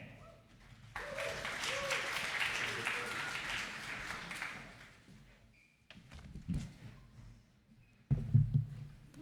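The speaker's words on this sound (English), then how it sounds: "Please give a massive round of applause to KaPay." An audience at a hackathon closing ceremony applauds a finalist team in a burst of clapping and cheering that lasts several seconds and fades, followed by a few thumps and handling noises.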